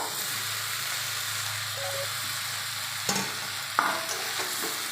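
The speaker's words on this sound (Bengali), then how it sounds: "দিয়ে এবার ভালো করে নেড়ে নেব" Fish and potatoes are stirred in a frying pan, with a steady sizzle of hot oil and a couple of sharper scraping knocks of the spatula toward the end, close and moderately loud, no voices.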